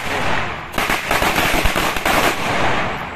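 A dense, continuous crackle of firecrackers held in a man's hands popping rapidly for several seconds, loud and close, with a steady background hiss between bursts.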